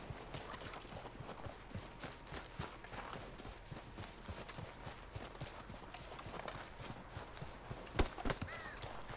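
Rhythmic clip-clop of horse hooves trotting at a steady pace in the video game Red Dead Redemption 2, close and moderately loud, with a brief sharp knock near the end.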